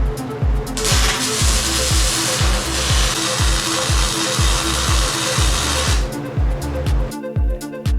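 Tack welding on steel while rebuilding the front of a custom toy hauler for a gooseneck, with a loud hissing, crackling burst for several seconds over a rhythmic low thumping pulse.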